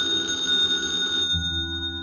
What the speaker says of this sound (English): all of a sudden, I knew the phone was ringing.